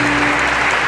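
A church congregation claps for the Holy Spirit during a Catholic charismatic service, dense, loud, continuous applause filling the whole short moment.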